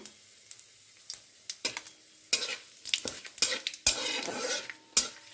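Whole spices, cinnamon and small cardamom, tempering in hot oil for a homestyle kul pickle, with close, repeated spatula scrapes and clatters over a crackling sizzle that swells in the second half.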